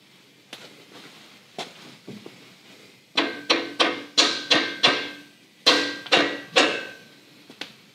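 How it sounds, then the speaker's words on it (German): Hammer blows ring out nearby, a few scattered light taps first, then two quick runs of strong, evenly spaced strikes with a sharp metallic ring. "Mit dem Hammer von meinem Opa"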